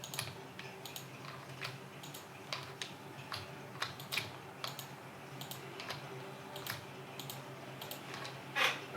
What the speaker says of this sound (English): I'm just doing some shift clicking there to make my line straight.